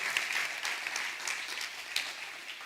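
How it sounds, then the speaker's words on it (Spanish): A church congregation claps hard in praise during a Spanish-language worship service, a steady dense patter of many hands at a moderate distance with no voices over it. "Si va a aplaudirle a Dios, hágalo duro, porque es su palabra la que nos guía."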